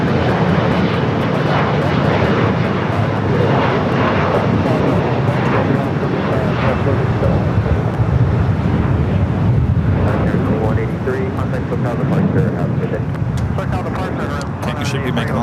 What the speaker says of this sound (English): we got Queen Air Cargo, 777 freighter. Looks like it's lining up for a 25 left takeoff.